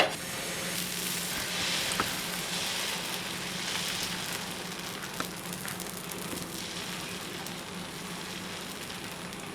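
Ragi dosa batter spread on an oiled pan gives off a soft, even sizzle, a quiet continuous hiss with the odd faint tick.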